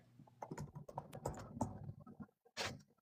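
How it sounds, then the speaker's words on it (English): Rapid, uneven keystrokes on a computer keyboard clatter close by for about three seconds, with a brief pause before a final louder burst of taps. "You're typing?"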